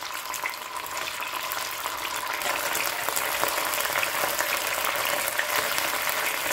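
Two chopped green chillies hit hot oil for a tandoori aloo dish, producing a close, crackling sizzle that builds slightly and holds steady and loud throughout.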